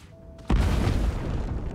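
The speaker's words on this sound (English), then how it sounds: "Or we could just go and blow the poison barrel" A poison barrel explodes in Divinity: Original Sin II, one loud, close boom after a short quiet lead-in, trailing into a long rumbling roar that holds for over a second.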